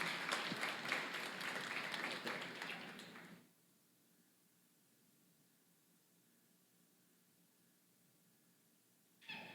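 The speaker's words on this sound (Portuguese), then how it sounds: "Vamos aplaudir poderosamente a palavra de Deus." A church congregation at a feast-day gathering claps loudly together for a few seconds, then the sound cuts off abruptly into near silence, with a short burst of noise returning at the very end.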